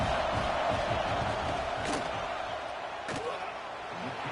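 Football stadium crowd roaring steadily through a field goal attempt, a dense continuous wash of noise with a couple of sharp bangs standing out midway.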